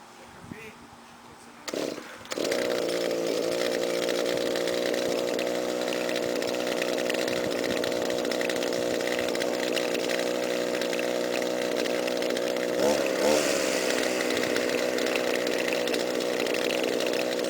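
A gas string trimmer engine is cranked with a couple of brief pulls, then catches and runs at a loud, steady buzzing idle close by, with a short rev partway through.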